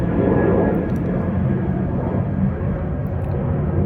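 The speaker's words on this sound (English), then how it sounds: "Even that airplane taking off." An airplane taking off, a loud, continuous engine roar that holds steady and slightly eases toward the end, with no talking over it.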